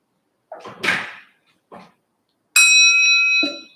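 During a Zen meditation session, a stick strikes a bell-like cup and sets off one bright, sustained ring lasting about a second. A few soft rustles come before it.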